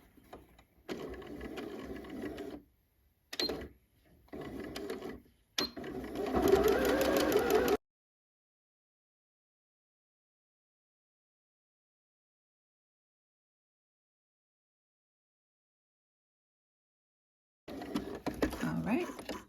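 A sewing machine runs a straight stitch with a backstitch along a sleeve seam at 5/8 inch, in several short bursts of whirring with pauses between, then a long silence before another burst resumes.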